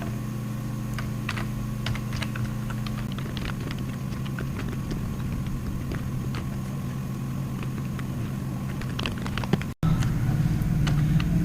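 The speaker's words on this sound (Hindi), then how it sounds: "यहाँ पे आके स्टूडेंट्स नेम टाइप कर लेते हैं" Rapid typing on a computer keyboard while entering student names into an Excel marks sheet: a steady run of crisp, close clicks over a low electrical hum, with no talking.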